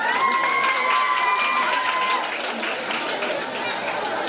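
Clapping from a crowd for the winner of a Paithani saree prize game at a Navratri festival gathering, dense applause with chatter mixed in and a faint tonal whistle-like sound early on.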